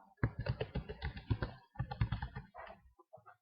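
Quick bursts of computer keyboard keystrokes as a password is typed in, close and fairly quiet, with a short pause midway and a few trailing taps.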